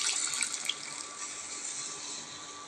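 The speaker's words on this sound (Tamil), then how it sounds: "கொஞ்சமாக தண்ணி சேர்த்துக்கலாம்." Water pours steadily into a pan of spiced vegetable masala simmering on a low flame, a continuous bright splashing hiss that runs close and even throughout with no voices.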